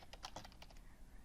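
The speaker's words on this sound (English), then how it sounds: "I'm not used to this keyboard." Quick, light keystrokes on a computer keyboard, a short irregular burst of clicks close by that thins out toward the end, with no talking.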